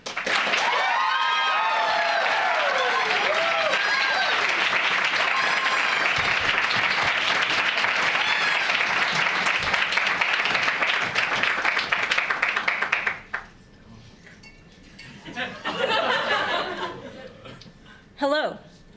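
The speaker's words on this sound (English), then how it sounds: "with a round of applause" A lecture audience claps and cheers loudly for several seconds with a few whoops, then the applause fades and a single voice begins speaking.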